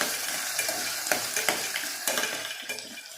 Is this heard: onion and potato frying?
yes